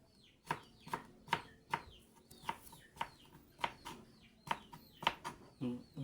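Chickens cluck in a repeated, uneven series of sharp calls, fairly close and steady, with some quieter fowl sounds between the louder clucks.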